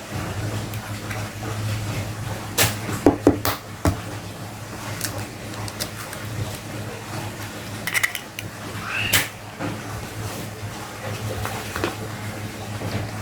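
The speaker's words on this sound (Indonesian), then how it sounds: "Kemudian kita pecahkan 2 butir telur." A few sharp taps and cracks as two eggs are broken against a bowl come in two brief clusters, with soft kitchen handling noises in between and no talking.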